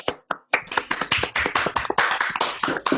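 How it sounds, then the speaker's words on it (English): Online audience clapping over a video call, a brief scattered start and then a dense, steady burst of many hands applauding together, loud and close, with no voices. "Let me unmute everybody so we can hear your clapping."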